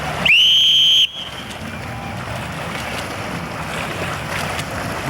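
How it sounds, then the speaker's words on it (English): A single long, loud whistle blast sounds near the start of a pool swim training session, holding steady for under a second before cutting off, then ambient splashing and wind-like noise continue. "Each whistle blow indicates a different time frame and the sequence"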